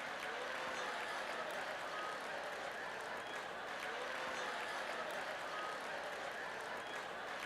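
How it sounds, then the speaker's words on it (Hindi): An audience at a sermon claps steadily throughout, a dense even patter of many hands, moderately distant and not very loud. "वो छोटे मिकी माउस वाले ताली से मैं बहुत खुश हूँ भाई।"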